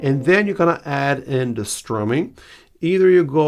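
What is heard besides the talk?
No everyday noise stands out behind the speech.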